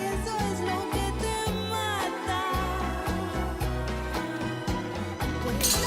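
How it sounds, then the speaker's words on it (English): A bolero song plays with a steady bass line, guitars and melodic instrumentation in a continuous, full mix. "Apparently this is an example of the genre bolero"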